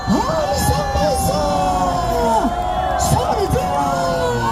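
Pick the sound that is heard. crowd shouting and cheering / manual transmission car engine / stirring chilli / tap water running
crowd shouting and cheering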